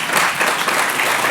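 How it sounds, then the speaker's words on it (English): A short burst of dense, loud applause from a conference audience, many hands clapping at once. "So, there you go, applause."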